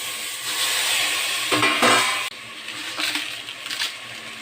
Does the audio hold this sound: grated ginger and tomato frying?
yes